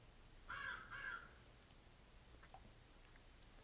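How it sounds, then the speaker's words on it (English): A single crow caws twice in quick succession, moderately distant, against an otherwise still, quiet background near a ruined tower wall. "One single cawing bird."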